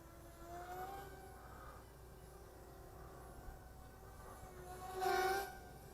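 An SG F22 four-channel RTF vertical stunt RC plane flies overhead with a thin, steady motor whine, fairly faint and distant, that rises briefly near the end.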